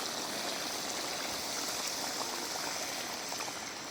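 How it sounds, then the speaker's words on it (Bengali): Pangas fish curry simmers in a pan after broth is poured over the spiced fish, giving a steady, close bubbling hiss that fills the whole stretch without any talk. "এখন একটু ঝোল দিয়ে জ্বালাম করে দেব"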